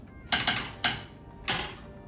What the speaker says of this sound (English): Thomas Edison used a telegraph machine like this when he worked for the Western Union.